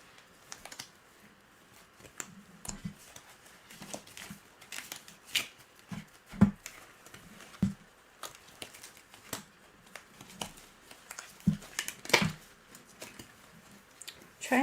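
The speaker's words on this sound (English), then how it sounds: "Trying to shuffle them in the bag the best that I can." Cards rustle and shuffle quietly in a bag, with irregular soft scrapes and taps close by, pausing now and then.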